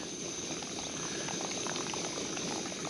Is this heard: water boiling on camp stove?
yes